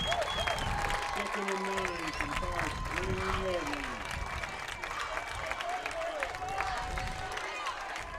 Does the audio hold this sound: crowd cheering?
yes